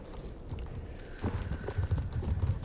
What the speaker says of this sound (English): A fluffy black horse